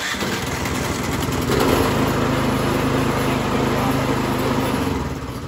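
A Troy Bilt Storm 2410 snow thrower's small engine runs close by with a loud, steady, buzzing drone. It swells slightly near the start, holds even, then eases a little at the end.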